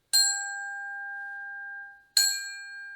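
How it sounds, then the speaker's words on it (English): A tuned metal bar struck from the side twice, each strike ringing an octave above its base note with a bright metallic attack and a long, steady sustain before fading, alone with no talk. "I can get a different note by striking from the side."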